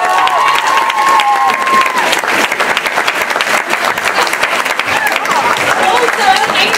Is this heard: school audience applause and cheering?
yes